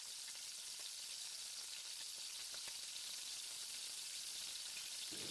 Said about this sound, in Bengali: আমি এখানে একটা কাঁটা চামচ দিয়ে নেড়েছি